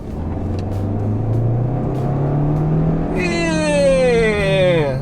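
A 2020 Hyundai Sonata's 1.6 liter turbo engine at full throttle, a droning note that climbs steadily in pitch, then a higher whining sweep that rises and falls over the last seconds, loud and close.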